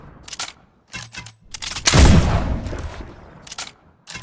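Gunfire in the Fortnite video game, one loud booming shot at the centre with a long decaying tail, set among short bursts of other game sounds.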